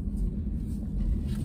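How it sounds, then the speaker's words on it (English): A 2023 Honda HR-V drives slowly through a parking lot, giving a low, steady rumble of engine and road noise, heard from inside the cabin and fairly subdued. "just from driving it around in the parking lot right here, super nice, easy drive"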